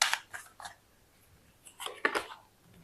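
Tarot cards being shuffled in a few brief papery riffles, close and quiet, in short bursts separated by pauses.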